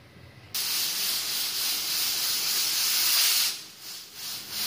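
A pressure cooker on a gas stove releases steam in a loud, continuous hiss that starts abruptly, holds steady for about three seconds, then breaks into shorter fading puffs.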